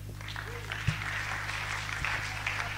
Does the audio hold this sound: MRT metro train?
no